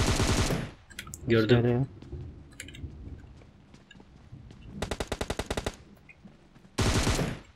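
Automatic gunfire in PUBG Mobile on the Sanhok bootcamp map, several loud rapid bursts of shots spread across the clip, with a player talking briefly between them.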